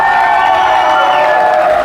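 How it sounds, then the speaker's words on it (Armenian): Wedding guests on the groom's side clap and cheer together, a dense, continuous wash of applause and crowd noise with sustained tonal sounds running through it for about two seconds. "փեսայի կողմը ինչ ծափեր է տալիս։"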